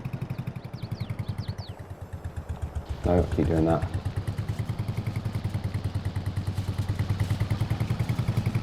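Small tractor engine in Farming Simulator 22 running at a steady putter, close and continuous, with a brief spoken phrase cutting in around the middle before the rhythmic engine pulse carries on alone.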